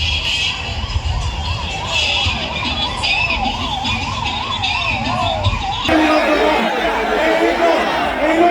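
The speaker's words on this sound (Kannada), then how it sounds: "ಆಂಬುಲೆನ್ಸ್ ಹಾಕೊಂತ ಇದ್ದೀನಿ." A wailing ambulance siren rises and falls repeatedly beneath a protesting crowd of people talking, then fades out as the chatter continues.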